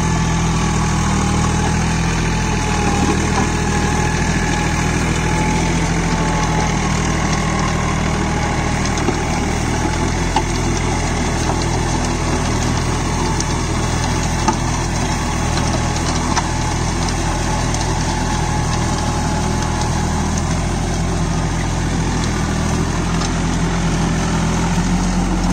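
A Swaraj Target 630 mini tractor engine runs steadily at 2000 RPM while driving a rotary tiller, a loud unbroken drone with constant vibration throughout and no talking.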